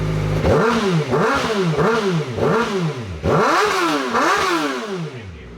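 Kawasaki Ninja ZX-4RR motorcycle fitted with a titanium exhaust, revved hard in six or seven rising-and-falling bursts, close and loud with a rasping high-pitched wail and no talking.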